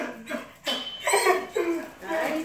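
Several short, rough growls and whiny yips from a four-week-old puppy come in bursts close by, with brief pauses between them.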